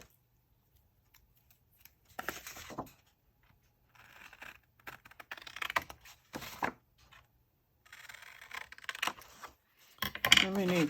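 Scissors cut paper for a gratitude journal kit in several short crunchy bursts with pauses between them, close and fairly quiet, with no talking.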